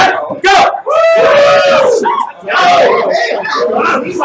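A live game show studio audience cheers and shouts for contestants racing a 30-second clock, with loud overlapping yells and screams in bursts and a host's voice mixed into the crowd noise.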